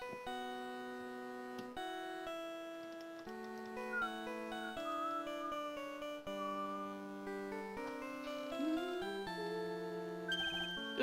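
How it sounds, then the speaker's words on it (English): A mobile phone ringtone plays during a Phoenix Wright: Trials and Tribulations stream, a steady run of beeping electronic melody notes that changes pitch every second or so across eleven seconds, with no voices. "Sorry, that's my phone."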